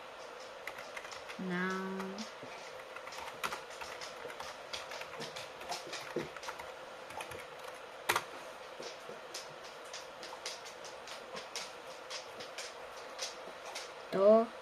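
Scattered soft keystrokes on a keyboard typing a chat message come in irregular clicks, with a voice speaking briefly over a quiet background.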